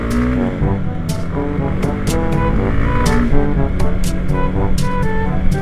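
A motorcycle pulls away at full throttle on a night ride, its engine note steady and loud with gear-change surges and close wind rush throughout, no voices heard.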